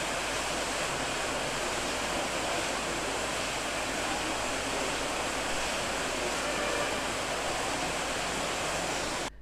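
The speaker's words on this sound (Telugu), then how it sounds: "మనకి ఇక్కడ వాటర్ అయితే ప్యూరిఫైకి సంబంధించిన మెషినరీ అయితే ఉంది, వాటర్ ఫిల్టర్ చేస్తుంది అని అనుకుంటున్నా." Water purification machinery filters water beside the Srivari Mettu footpath to Tirumala, giving a constant, even rushing hiss like flowing water that holds steady throughout before cutting off abruptly at the end.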